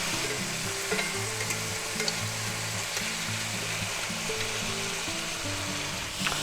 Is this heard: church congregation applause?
no